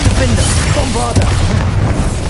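A Bombarda spell explosion in the Hogwarts Legacy video game booms loudly and close, with rumbling low-end and crackling debris, while a voice talks over it.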